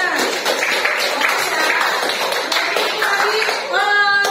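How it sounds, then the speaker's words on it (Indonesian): Students in a classroom applaud a classmate named Dena, a steady, close round of clapping that lasts several seconds, with voices over it near the end. "kita kasih tepuk tangan untuk Dena"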